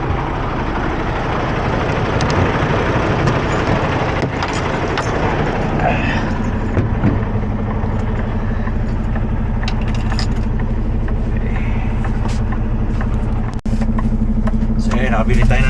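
A car driving along with a steady low engine hum and road rumble, a faint jingle of keys and interior rattles, and people talking over it throughout.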